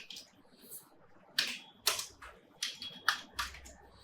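Clacky keyboard keystrokes while writing Java ArrayList code, sharp, irregular presses coming in small bursts, close and fairly clear over faint background hiss.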